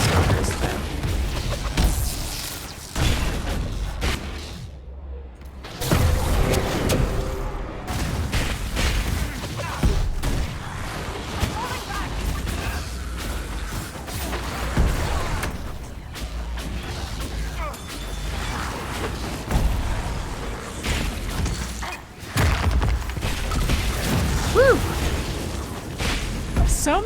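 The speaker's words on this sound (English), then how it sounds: "many explosions!" Repeated loud booms and blasts in Dragon Age: Inquisition rumble through a busy, chaotic soundscape, with voices talking over the constant bursts.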